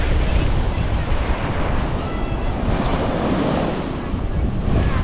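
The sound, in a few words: ocean waves and surf at a lagoon beach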